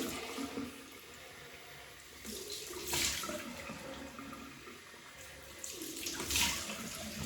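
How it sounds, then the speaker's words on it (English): Cold water gushes from a tap in a steady stream while rinsing after a shave, swelling louder a couple of times as it splashes. "look at some nice cold water now"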